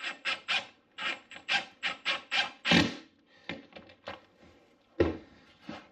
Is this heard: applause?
no